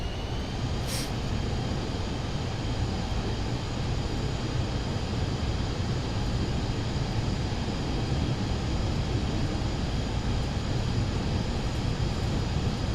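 PC-24 business jet at full throttle rolling down a dirt runway in Papua New Guinea, simulated in Microsoft Flight Simulator 2024, with a continuous loud engine roar and rumbling broadband noise that holds steady from start to finish.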